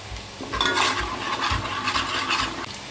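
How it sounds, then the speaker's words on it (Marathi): Onions are sautéed and stirred in a pan until reddish for stuffed river crab, producing a swelling, scraping sizzle that rises and falls with each stir, close and moderately loud. "तर आपला आता कांदा लालसर होईपर्यंत आपल्याला चांगला परतवायचा आहे तो"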